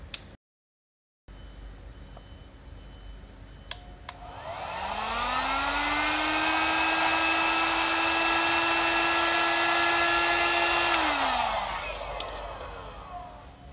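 A heat gun blows hot air onto a hollow fiber membrane, a steady loud whooshing drone with a whining motor tone. It begins after a short silence, swells over a few seconds, holds even, then winds down near the end.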